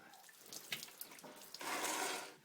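Water runs and splashes out of the drain plug hole in an inboard/outboard boat hull, a steady trickle that swells into a louder gush near the end.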